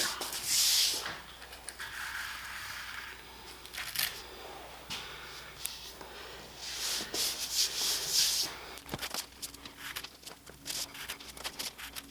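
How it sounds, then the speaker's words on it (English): Veneer tape is pulled and pressed along the seams of wood veneer for a front door's center panel, giving intermittent close rubbing and tearing bursts of varying loudness with no talking. "I'm just going to tape each seam so it acts as a hinge when I glue it."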